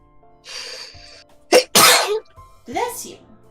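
A single sharp sneeze close to the microphone, a quick intake followed by a loud explosive burst, with soft voices before and after.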